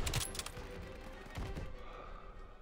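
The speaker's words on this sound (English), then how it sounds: "They're taking fire from behind!" Gunfire in Call of Duty WWII, a quiet distant volley of shots and machine-gun bursts, clustered near the start and again around the middle under a low rumble.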